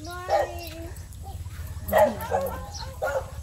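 A dog gives a few short, high yips and barks close by, spread over a few seconds, with quiet background noise between them.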